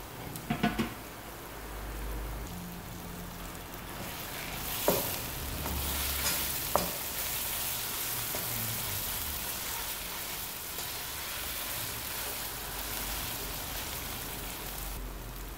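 Tomato paste fries in a pot for party jollof rice, giving a steady soft sizzle throughout, with a few brief clinks and stirring knocks near the start and middle, and no talk.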